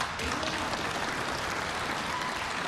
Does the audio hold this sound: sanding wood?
no